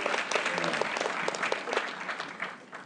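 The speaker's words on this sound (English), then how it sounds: "A round of applause" Audience applause welcoming a speaker at a management seminar, dense steady clapping from a room of people that continues throughout at moderate volume.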